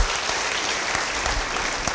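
Applause fills a church congregation during a sermon, a dense, steady crackle of many hands clapping throughout with a few sharper individual claps standing out.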